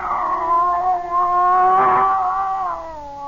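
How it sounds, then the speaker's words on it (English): A scrawny cat with arched back, confronting a snake aboard a ship in a radio drama, lets out a loud, close, drawn-out yowling caterwaul that wavers and rises over several seconds, heard alone. "There was a cat."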